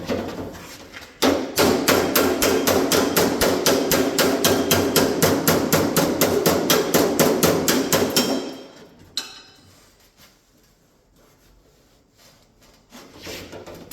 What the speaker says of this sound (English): Let me hammer a little bit here.